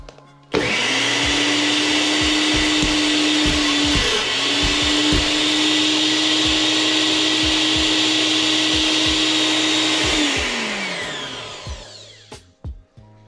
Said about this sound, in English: We want to get that up so it crushes and gets into the blender.